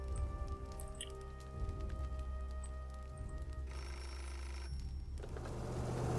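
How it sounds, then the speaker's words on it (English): In the video game Beholder, a telephone rings with a thin electronic bell tone repeating over a low, steady game ambience. "Phone is ringing."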